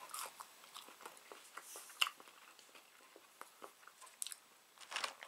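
Close, quiet chewing of Wendy's fries from a $5 Biggie Bag, soft crunchy bites and wet mastication repeating irregularly at a near distance, with no talk.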